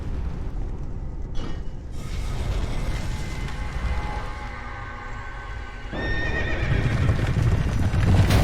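A horse in the video game Dark Souls whinnies over continuous clip-clopping hooves and heavy rumbling, loud and close, with the neigh rising clearly midway and the rumble swelling near the end.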